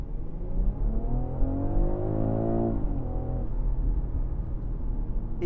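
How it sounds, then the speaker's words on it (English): A 2025 BMW X3 M in sport mode accelerates hard from inside the cabin, engine note climbing steadily in pitch, dropping at a gear change, then rising again, moderately loud with no speech. "It does accelerate quite well for such a big car."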